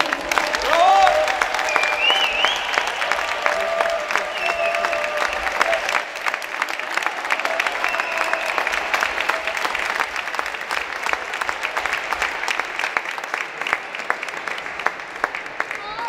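An audience applauds a tennis finalist from Russia at a girls' tournament final, dense sustained clapping that runs steadily throughout, with an announcer's voice heard briefly near the start.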